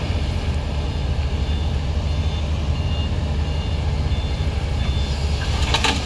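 Reversing beeps from an excavator repeat at a steady rhythm over a loud, constant engine rumble, moderately close, with a brief clatter near the end and no talk.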